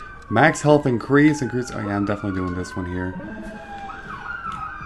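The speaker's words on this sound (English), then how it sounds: "sorry about the sirens. I hate freaking sirens." Wailing emergency sirens drift through from outside, their long rising and falling tones running faintly beneath someone talking over game sounds throughout.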